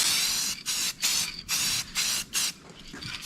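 An aerosol can of spray dye coating a classic car's interior in light, even passes, heard up close as a loud hiss in about six short bursts separated by brief pauses.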